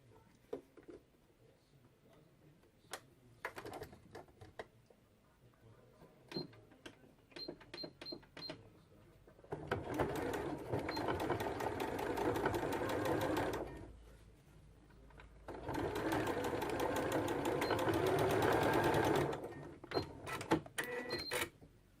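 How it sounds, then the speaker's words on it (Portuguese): A sewing machine stitches a seam across a winter slipper, running in two long rapid mechanical bursts, with scattered clicks and ticks from handling before and between them. "Aí a gente passa uma costura aqui assim, atravessando"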